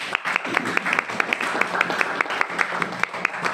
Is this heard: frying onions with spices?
no